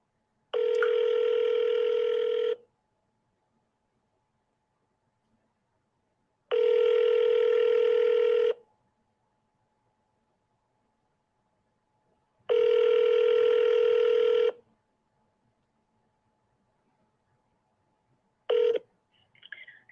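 A telephone dial tone sounds in three steady bursts of about two seconds each, separated by silence, followed by a brief clipped fourth tone at the end; close, clean and without voices.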